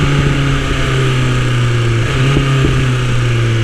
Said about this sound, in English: All right, I'm off the throttle, downshift, downshift, so smooth, effortless.